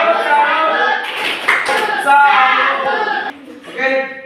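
A class does the tepuk salut clapping chant, voices chanting in rhythm with a few sharp claps scattered among them, close and loud, ending in a brief pause before a final burst.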